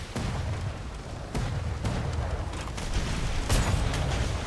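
Ship cannons fire in a naval battle game, deep booming shots landing at intervals over a constant rumbling din, loud and heavy throughout.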